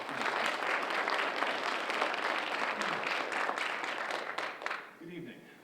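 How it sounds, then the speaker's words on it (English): Audience applause at a book launch rises as a full, steady round of clapping from a small indoor crowd, fading out near the end as a voice begins to speak. "Please give one more round of applause to Susan Moran."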